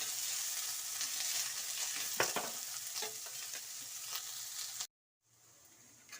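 Onions crackle and sizzle steadily in an oil-filled pan, with a few sharp pops from stirring before the sound cuts out briefly and faintly returns.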